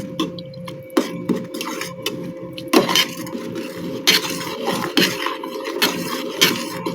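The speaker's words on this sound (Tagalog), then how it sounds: "Haluin lang natin para maging lomi talaga" A utensil stirs lomi noodle soup with egg in a pot, giving repeated scraping and clinking knocks against the pot in an uneven rhythm, close and clear with a steady background hum.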